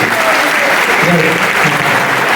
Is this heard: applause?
yes